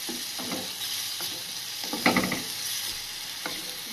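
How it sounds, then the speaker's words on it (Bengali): Tomato and spices stir-fried together for a large koi fish curry, a steady broadband sizzle with soft scraping stirs at intervals and a brief louder burst midway, close and alone. "এই পর্যায়ে দিয়ে দেবো একটা কেটে রাখা টমেটো, দিয়ে এটা ভালোভাবে কষিয়ে নেব মশলার সঙ্গে।"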